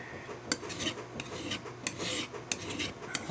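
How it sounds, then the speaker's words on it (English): A small file rasps in short back-and-forth strokes across the head and base of an N scale model rail, a quiet, close scraping with a few brighter metallic ticks and no talk. "filing both the rail head and the rail base off"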